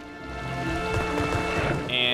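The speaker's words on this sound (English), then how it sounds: "So it's gonna drain the water right out of it." Water rushing out of lowered canals in the video game Oceanhorn during heavy rain, a steady broad wash of draining water with rain texture, close and fairly loud throughout, with a brief bright chime near the end.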